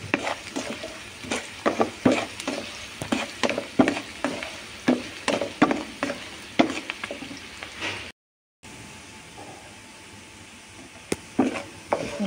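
Onion pieces with turmeric frying in a pan make a steady sizzle, broken by a quick series of close scraping and tapping stirs. A brief cut into silence is followed by quieter frying.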